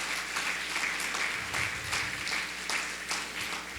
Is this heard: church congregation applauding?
yes